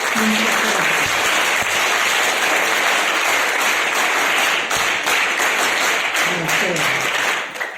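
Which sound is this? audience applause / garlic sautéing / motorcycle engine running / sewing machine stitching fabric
audience applause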